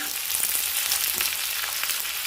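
Tomatoes and green chilies fry in a home kitchen pan, giving a steady close crackling sizzle with brief stirring scrapes and no voices.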